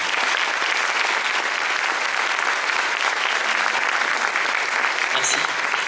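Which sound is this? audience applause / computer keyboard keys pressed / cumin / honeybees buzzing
audience applause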